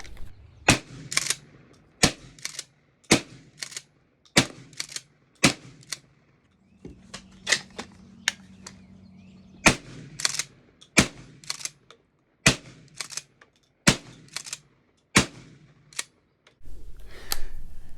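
A Remington 870 Wingmaster pump shotgun with a 3.5-inch chamber fires a long series of sharp, loud, booming reports spaced less than a second apart, with faint rattling between shots and no voices.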